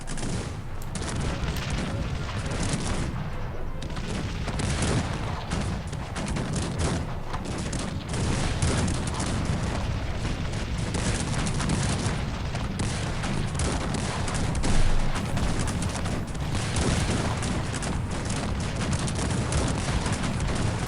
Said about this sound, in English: Those cannons proved to be deadly.